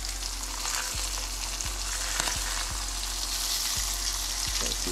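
Steady close sizzle of rainbow trout frying in a hot pan as lemon pieces are added, with several soft clicks from tongs and no talking.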